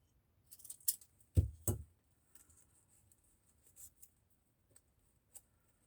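Scissors snip through a paper bag in two or three close, crisp cuts, followed by faint rustling and small taps of paper being handled nearby.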